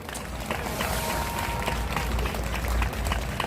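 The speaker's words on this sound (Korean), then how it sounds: "진짜 큰 박수가 필요합니다." A crowd applauds at an outdoor political rally at the Gwanghwamun intersection in Seoul, with dense, steady clapping from many people that fills the whole stretch at an even level.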